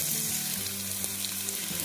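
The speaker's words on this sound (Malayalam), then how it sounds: "ഇതിലോട്ട് സവാള ചേർത്ത് കൊടുക്കാം" Sliced onions hit hot oil in a pan, producing a brief, steady close sizzle with a soft crackle, no speech.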